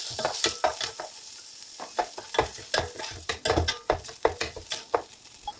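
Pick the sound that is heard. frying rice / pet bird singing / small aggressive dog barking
frying rice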